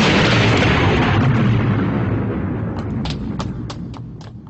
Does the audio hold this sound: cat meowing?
no